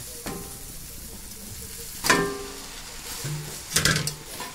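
Noodles are tipped into a hot pan and stirred, giving a soft steady sizzle with a couple of louder scraping, tossing bursts. No one speaks.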